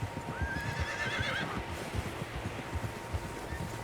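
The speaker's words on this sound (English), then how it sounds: "Horses, quite a few of them." Horses in the video game Red Dead Redemption 2: a clear whinny rises early over steady clip-clop hooves on dirt, with faint wind in the background.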